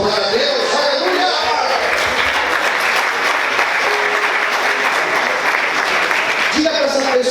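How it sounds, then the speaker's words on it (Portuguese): Church congregation applauding during a sermon, steady sustained clapping filling several seconds, with a preacher's voice at the start and end. "Você pode aplaudir e exaltar a Deus."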